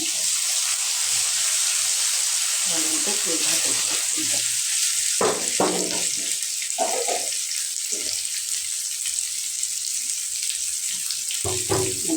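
Eggplant fritters (begun bora) sizzle and crackle steadily in hot oil, a continuous bright hiss running throughout, broken by a few clinks and scraping handling sounds from the pan.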